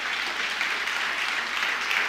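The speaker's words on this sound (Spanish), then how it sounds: "Dele un aplauso a Dios" A church congregation applauds during a Spanish-language sermon, giving a dense, even burst of many hands clapping that fills the room and continues without a break.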